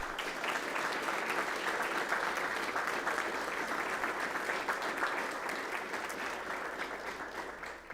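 Sustained applause from an audience at a school district board meeting, steady and dense clapping filling the room for the whole stretch, fading slightly toward the end.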